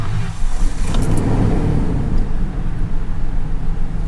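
An OBS Ford truck engine restarted and left running, giving a loud, close, uneven low rumble that pulses throughout, with no talk.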